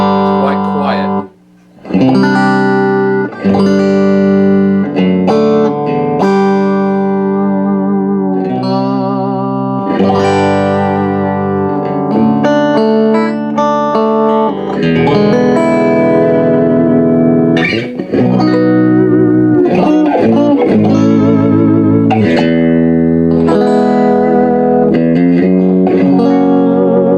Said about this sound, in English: It's got a really nice reverb, and I'm not a fan of reverb, but this one's pretty nice.